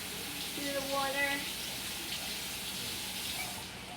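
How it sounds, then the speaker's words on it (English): Enoki mushrooms rinsed quickly under a running kitchen tap, a steady close hiss of flowing water with light splashing, while a voice briefly talks over it. "Just cut the ends, rinse it quickly through the water"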